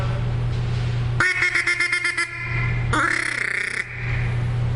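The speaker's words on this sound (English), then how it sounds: "That sounds pretty good. There you go. A duck call." Two quick bursts of quacking from a duck call, close and loud, the first a rapid series of short quacks, the second a longer drawn-out note, over a low hum.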